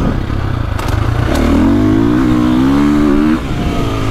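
KTM 450 Factory Edition motorcycle, a 2024.5 model, revs hard with a rising engine whine for about two seconds, then backs off sharply; loud, close, and alone with no talk.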